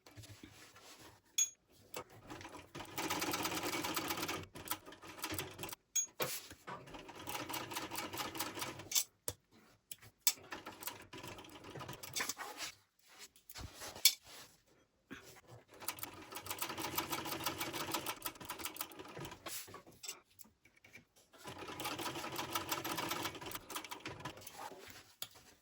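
A sewing machine stitching the pocket seams of a shoulder bag, with several bursts of rapid, even needle chatter separated by short pauses for back stitching and turning, close and fairly quiet.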